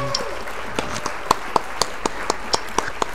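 Applause effect in an online Texas Hold'em poker tournament game: a run of about a dozen sharp, evenly spaced clap-like taps over a steady noisy background, moderately loud and close.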